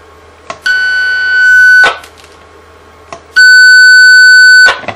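Two long, loud electronic confirmation beeps from a radio frequency counter, each steady tone lasting over a second, separated by a short pause with faint clicks.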